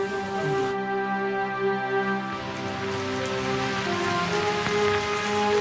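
Early monsoon rain in late April falls steadily, a dense patter on surfaces with a sustained tonal hum running underneath throughout.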